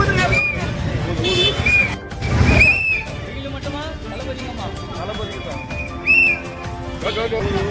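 A whistle is blown several times in short shrill toots over a noisy crowd, with people talking throughout.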